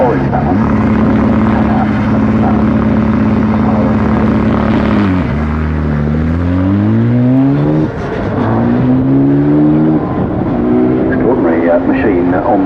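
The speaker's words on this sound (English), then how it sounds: "It is a KTM Crossbow or Expo." A KTM X-Bow sports car drives at the Goodwood Festival of Speed, its engine loud and near, holding a steady drone before the pitch drops and climbs through several rev changes while commentators talk over it.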